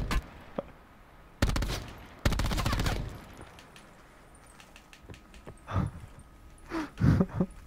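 Gunfire in a video game: a few loud, sharp shots and short bursts early on, followed by scattered fainter pops and thuds at middling distance, with no talking.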